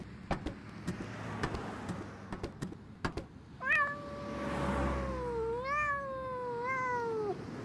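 A dirty cat retching in the video game Randal's Monday, with a series of sharp clicks and thumps followed by a drawn-out, wavering, whining vocal heave that rises and sags over several seconds.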